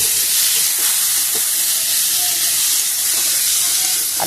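Fried potatoes tipped into a wok of sizzling spice mix for a morola fish chorchori: a loud, continuous hissing sizzle from hot oil that stays steady throughout.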